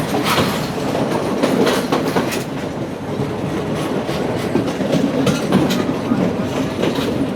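A train on the coastal line near Colombo rumbles loudly and steadily as it approaches Panadura station, with rhythmic clicks of the wheels over rail joints throughout.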